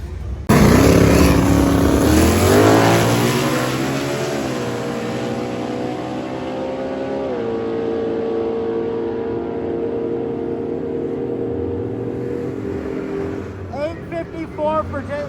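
Naturally aspirated small-block drag race car at Drag Week 2025 roaring loudly down the strip, engine note climbing through gear changes for about thirteen seconds before fading, with crowd and track noise underneath.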